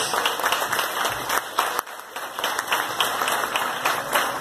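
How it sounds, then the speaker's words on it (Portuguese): Church congregation applauding during a faith service at night, a steady dense wash of clapping from many hands that carries on without pause throughout, fairly close and full. "Quem tem fé aqui nesta noite, aplauda o nome do Senhor Jesus."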